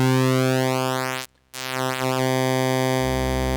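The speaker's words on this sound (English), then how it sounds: "We're able to adjust the pulse width for that square." A square wave from a Dreadbox Telepathy synth plays with its pulse width being swept, so the buzzy harmonic tone shifts its timbre continuously, breaking off for a brief moment of silence before resuming.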